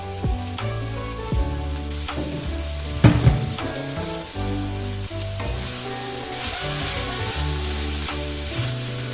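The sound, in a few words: okra (bhindi) frying in a pan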